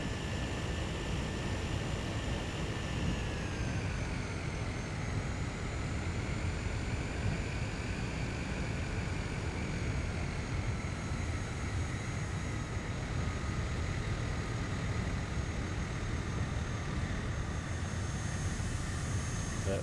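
Steady engine drone of a light propeller aircraft during landing on a UK flight route to RAF Mona, a loud continuous hum with wavering tonal lines, no talking.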